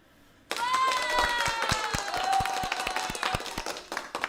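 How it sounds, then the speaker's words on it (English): Loud hand clapping bursts in half a second into the clip and keeps a brisk, steady rhythm over a sustained tonal layer, with no talk over it. "that's an applause to you guys"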